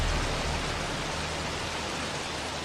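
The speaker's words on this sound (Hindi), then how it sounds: "बहुत तेज बारिश है" Heavy rain pours in a steady, dense roar of broadband hiss, constant and loud throughout with no voices.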